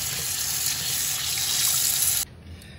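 Kitchen tap water runs steadily into a sink as canned jackfruit is rinsed, a close, even hiss of flowing water that stops abruptly near the end, leaving quiet.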